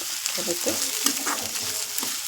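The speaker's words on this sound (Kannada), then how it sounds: "ಚೆನ್ನಾಗಿ ಈರುಳ್ಳಿ ಎಲ್ಲ ಎಣ್ಣೆಯಲ್ಲಿ ಫ್ರೈ ಮಾಡ್ಕೊಳ್ಬೇಕು" Onions and curry leaves fry in hot oil, a steady close sizzle with scraping stir strokes breaking through at intervals, no voices over it.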